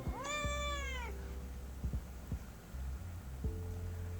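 A cat meows once with a clear rising and falling cry near the start, then low purring-like throbbing and a few soft bumps follow, close by with no talking.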